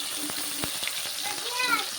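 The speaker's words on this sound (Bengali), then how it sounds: "দিয়ে এবার এগুলোকে পেঁয়াজ আর টমেটোকে আমি ভালো করে লাল লাল করে ভাজা করব।" Onions and chopped tomatoes fry in a pan, a steady close sizzle with a few sharp pops and a light stirring scrape, while a voice murmurs faintly underneath.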